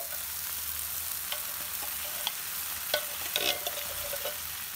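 Tomato-onion sauce with cream and whey bubbles and sizzles in a pan, soft popping and scattered stirring scrapes close by over a low steady hiss, with no voices.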